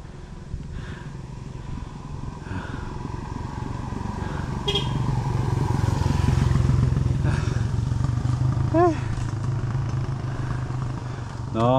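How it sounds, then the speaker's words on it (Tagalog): A motorcycle on a steep, slippery, mossy downhill trail rumbles close by. The engine drone swells in the middle and holds low and steady, with some clatter, scraping and a few short whines. "paigil lang sa motor"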